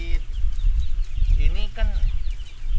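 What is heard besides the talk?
broiler chickens clucking in a poultry house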